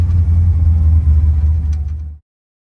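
Supercharged Pontiac GTO engine pulling hard through a gear, a loud deep rumbling roar heard from inside the car that holds steady and then cuts off abruptly.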